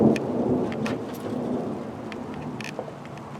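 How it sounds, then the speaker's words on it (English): Thunderstorm with a steady patter of rain and low, rolling thunder rumbling in the distance, scattered sharp drops striking nearby surfaces throughout. "Where lightning and thundering the way it is, it sure isn't putting out much rain"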